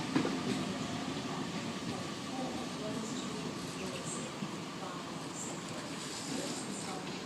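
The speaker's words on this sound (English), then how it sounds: "And approaching platform 6 we have a Waratah Epping service." Sydney Trains Waratah electric passenger train at Strathfield station in the rain, a continuous rumbling roar of the train moving along the platform, fairly steady and moderately loud.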